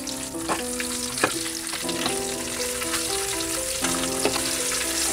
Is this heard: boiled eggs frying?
yes